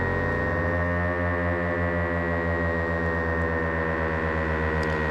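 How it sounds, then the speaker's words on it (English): A Stylophone CPM DS2 analog drone synthesizer holds a dark, doomy drone, dense stacked tones sustained steadily and loud throughout with a faint pulsing beat, no voice over it. "a relatively doomy droney point with the Stylophone CPM DS2 analog drone synthesizer"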